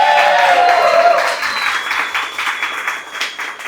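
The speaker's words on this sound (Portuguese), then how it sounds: "Salve de palmas para ele." A company audience breaks into applause, a loud burst of clapping that fades over a few seconds, with little talk underneath.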